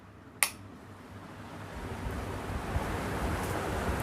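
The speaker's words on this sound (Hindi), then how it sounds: "आपको पंखे की सरसराहट काफ़ी तेज़ आ रही है" A household electric fan switched to high speed gives a steady, rising whoosh of rushing air that builds and holds, with a sharp click near the start as it is turned on.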